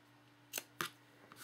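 Scissors trim ribbon in two or three quick, crisp snips, close and faint in a quiet room.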